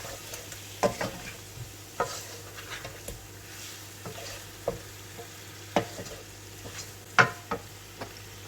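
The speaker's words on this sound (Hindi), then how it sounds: "मैंने 1 मिनट तक इसे भूना है मसाले डाल के सारे।" Spices frying over low heat in a pan with whole white cumin for chicken karhi, a soft continuous sizzle broken by irregular spoon taps and scrapes, close and moderately quiet, with no talking.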